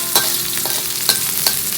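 Onions sauté in an oiled pan for chicken curry under a loud, close sizzle, broken by several sharp metallic spatula strikes and scrapes as they are stirred.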